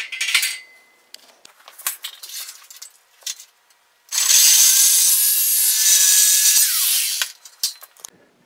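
Galvanized steel garage door rail is cut, with scattered scraping and clanking before a loud, steady grinding cut lasting about three seconds, then more light metallic handling.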